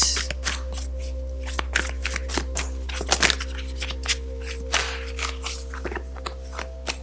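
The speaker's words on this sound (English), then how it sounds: "Let's get the next oracle card out." Oracle cards being shuffled and drawn, a run of crisp riffling flicks and soft slaps in an irregular rhythm, close and fairly quiet over a steady low hum, with no talking.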